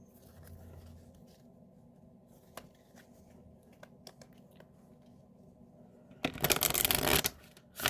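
A large deck of Rumi Oracle cards is handled with faint clicks and taps, then riffled in a loud, close burst of shuffling near the end.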